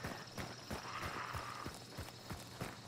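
Horses in the video game Hunt: Showdown, their hooves clip-clopping in a steady, fairly loud rhythm of repeated thuds, with a faint whinny in the mix.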